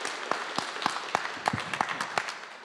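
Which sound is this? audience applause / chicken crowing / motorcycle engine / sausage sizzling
audience applause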